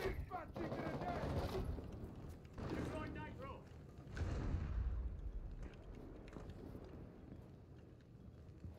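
Gunfire in Rainbow Six Siege, a few bursts of rapid shots at moderate loudness mixed with game ambience, running steadily under talk from players.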